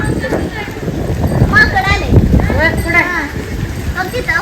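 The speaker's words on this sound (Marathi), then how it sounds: "बैलगाडी बघा" Bullock cart hooves clop along in the rain under overlapping chatter from several people nearby, with a voice rising over the crowd.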